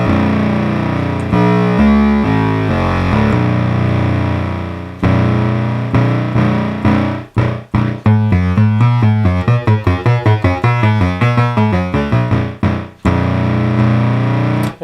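Restored R.A. Moog Minimoog synthesizer playing bright, buzzy sustained tones, then a quick run of short repeated notes that each fade fast through the decay stage, loud and close with no talking.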